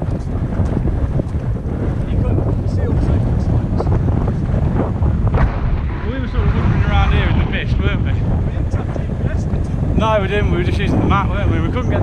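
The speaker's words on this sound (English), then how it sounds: "It might be windy today, but it was a lot windier then." Strong wind on a Lake District mountain ridge buffets the microphone in a constant roar, with people talking under the gusts.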